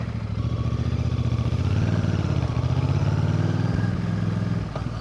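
A 2025 Royal Enfield Bear 650 motorcycle idling close by with a steady pulsing twin-cylinder thrum, the beat slowing slightly before the engine cuts out near the end.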